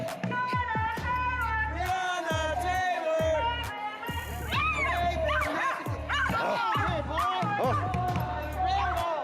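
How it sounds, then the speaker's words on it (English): Several puppies bark and yip in quick, overlapping bursts at close range, with whimpers mixed in and people talking around them. "Those puppies want to play so bad."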